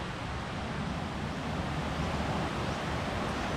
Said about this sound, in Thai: เสียงซาซานี่คือเสียงน้ำไหลนะครับพี่น้องดู